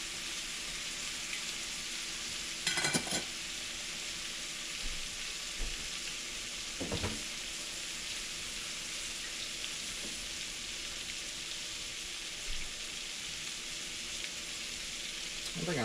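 Chicken of the woods mushrooms deep frying in oil sizzle and crackle steadily at close range, a constant frying hiss with occasional sharper clicks and small bursts.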